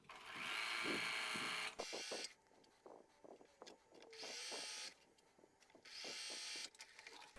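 A sewing machine chain-piecing Lemoyne Star quilt block pieces runs in three loud sustained bursts, separated by quieter stretches of handling taps and fabric shuffling.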